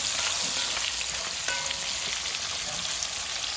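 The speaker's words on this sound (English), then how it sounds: "I'm gonna also add some pork sausage in." Pork sausage and pigtail fry in a pot for Jamaican seasoned rice, giving a steady, fairly loud hiss with fine crackling. The sound stays even from start to end, and no one speaks.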